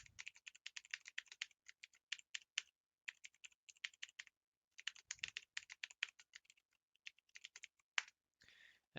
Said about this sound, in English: I'm just going to type the prototype manually.